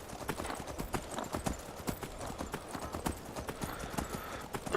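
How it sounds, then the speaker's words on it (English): Horse hooves gallop in the Skyrim game world with a quick, steady clip-clop rhythm, fairly quiet and continuous throughout. "Drunken horse riding."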